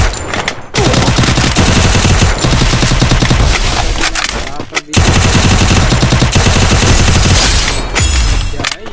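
Rapid automatic gunfire from the Free Fire battle game, loud sustained bursts filling nearly the whole stretch with a brief gap near the start and another midway, dense rattling shots throughout.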